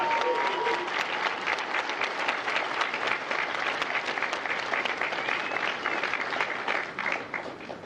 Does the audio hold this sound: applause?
yes